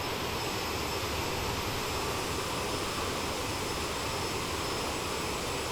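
Steady, loud, continuous roar and whine of CRJ700 jet engines in Microsoft Flight Simulator, heard from outside the airliner in flight, unbroken and with no voices.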